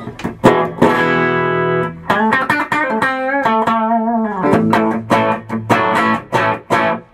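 Electric guitar played loud through a Fender Bassbreaker 15 tube amp head on the clean channel with a touch of reverb, with ringing strummed chords and sustained notes in an uneven rhythm, a slightly thick, muddy tone, and no voices.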